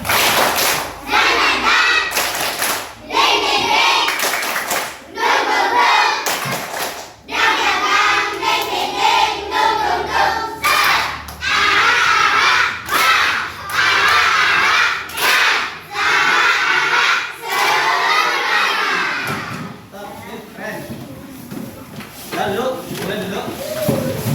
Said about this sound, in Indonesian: Kita tepuk tangan dulu ya. Oke, siap? Tepuk semangat.